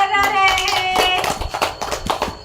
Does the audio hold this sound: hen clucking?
no